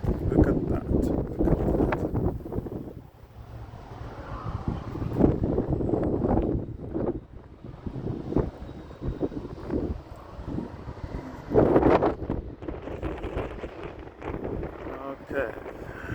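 Strong gusts of wind buffet the microphone on a windy, dusty day near tractors, roaring in uneven surges and lulls, with someone talking intermittently through the bluster.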